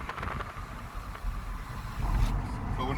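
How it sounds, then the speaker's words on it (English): Car engine running while driving in third gear: a steady low rumble with road and wind noise, swelling slightly in the second half, close and continuous with no talking. "Hopefully you notice the difference between the sound of the car now and how it was earlier."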